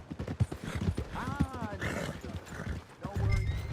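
Horse hooves clip-clopping with a whinny in the Red Dead Redemption 2 video game, rhythmic steps close by under game dialogue, the neigh rising mid-clip before heavier hoof thuds at the end.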